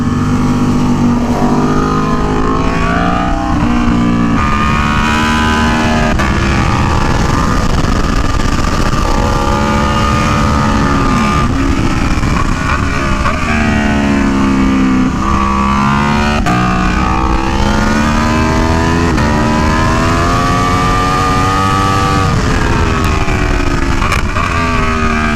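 An Aprilia Tuono V4 1100 Factory motorcycle on the Buttonwillow Raceway race track roars loud and close throughout, its engine rising and falling through revs and gear changes with no talk.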